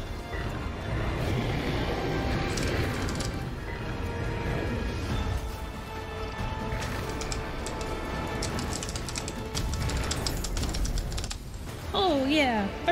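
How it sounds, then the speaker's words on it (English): A clicky computer keyboard clatters in rapid, irregular bursts during a fast online strategy match, the keystrokes close and steady under game sounds and occasional talk. "For those of you who like the clicky keyboard, enjoy all the panicky clicks that you hear."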